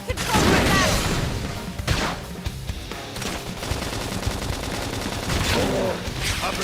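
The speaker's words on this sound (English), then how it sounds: "Gunfire." Sustained automatic gunfire in the video game Xenoblade Chronicles X rattles with crashing impacts and whooshes, loud and busy, with some voices faintly mixed into the combat noise.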